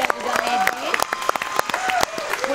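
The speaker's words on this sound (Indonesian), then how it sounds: "Kasih tepuk tangan dong buat Yogi dan juga Medi" A studio audience on an Indonesian talk show claps in sharp, scattered bursts, moderately loud, while a host's voice talks over the applause.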